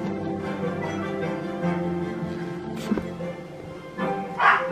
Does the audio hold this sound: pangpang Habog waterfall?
no